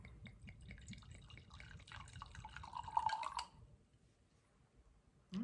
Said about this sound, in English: I'll pour it first to sort of get a better smell of it.